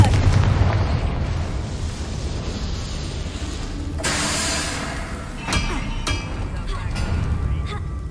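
Confringo fire spell cast in Hogwarts Legacy, bursting as a muffled boom with a crackling rush, followed by further sharp pops and impacts over a rumbling game ambience, a voice speaking at times.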